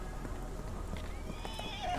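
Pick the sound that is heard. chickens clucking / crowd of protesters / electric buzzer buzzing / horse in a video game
horse in a video game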